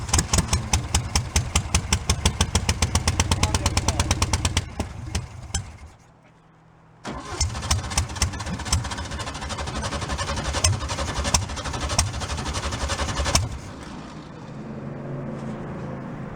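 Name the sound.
old VW bus engine starting and idling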